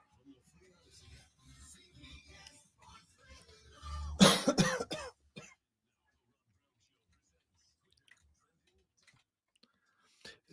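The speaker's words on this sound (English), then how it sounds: "I'm trying not to project because that's when the coughing comes." A burst of several close, harsh coughs after quiet murmured talk, followed by near silence with a few faint clicks.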